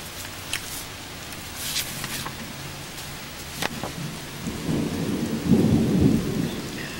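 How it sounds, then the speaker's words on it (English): Rain falls outdoors on a late-summer day while thunder rumbles, swelling into a deep, rolling peak near the end, with a few sharp ticks from drops or nearby movement. "In the outdoor office, you can hear the thunder."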